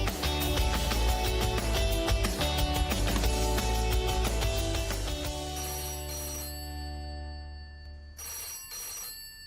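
Telephone ringing: a loud electronic ringtone melody repeating steadily over rich musical tones, then fading out near the end.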